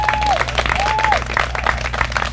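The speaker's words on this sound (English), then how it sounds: "Give him another round of applause." A crowd at a fire station groundbreaking ceremony gives a round of applause: loud, dense clapping from many people, continuous and close, with a faint whistle-like tone near the start.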